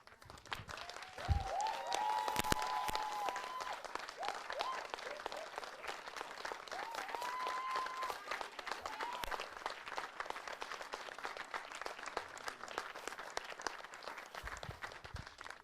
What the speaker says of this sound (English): I don't think if a clapping would help, but let's try, right?